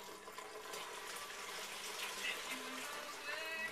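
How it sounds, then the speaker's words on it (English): Free run juice from a wine press pours into a settling tank, a steady, quiet rush of liquid that runs without pause. "Free run juice. And I'm putting it up here. I'm filling up the settling tank."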